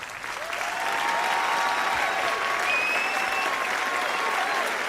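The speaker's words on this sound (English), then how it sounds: "Let's give one last round of applause." Audience applause at a live indie game pitch contest for student projects, a full steady round of clapping that swells early and holds loudly to the end, with faint voices mixed in.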